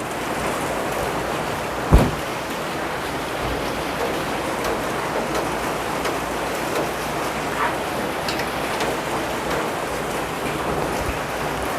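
Steady, even rain hiss fills the whole stretch, with a single brief thump early on and no voices.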